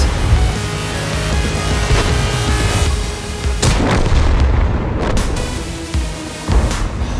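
Tank gunfire in the video game World of Tanks, a lower-tier medium firing at heavy front armor: loud booming cannon shots and sharp impacts over a constant rumbling engine drone, with several distinct blasts.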